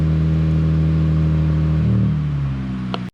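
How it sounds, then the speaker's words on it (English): A Lexus IS250 fitted with a PTS catback exhaust idles on a cold start, a loud, close, steady low drone that shifts pitch partway through as revs settle, then cuts off. "This is a cold start on the PTS exhaust."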